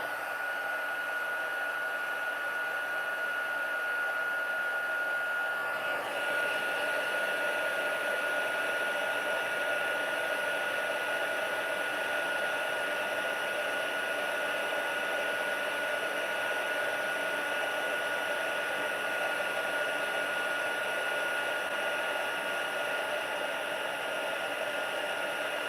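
A heat tool blows steadily on specialty paper, a continuous airy whoosh with a faint whine that runs unbroken for the whole stretch, close and moderately loud, with no talking.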